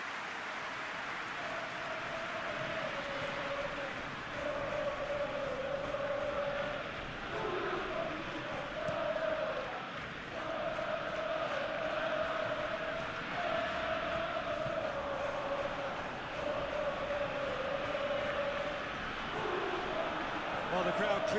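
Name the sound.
crowd cheering in PES 21 football video game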